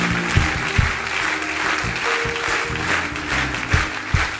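A church congregation applauding in a large hall, a loud, sustained wash of clapping with scattered sharper claps and some voices mixed in.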